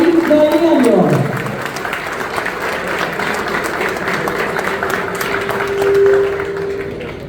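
Steady audience applause for an honoree at a Paraguayan arts and culture ceremony in the Palacio Barolo, Buenos Aires, dense and continuous throughout, with a voice speaking over it at the start.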